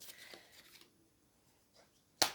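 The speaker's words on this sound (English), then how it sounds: "I've just shuffled that." A deck of tarot cards is shuffled, giving a soft papery riffle at the start and then a brief crisp snap of cards near the end, quiet and close, with no talk.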